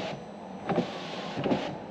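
Rear power windows of a Mercedes CL55 AMG running inside the cabin, two short whirring motor bursts about a second apart over a steady background hum.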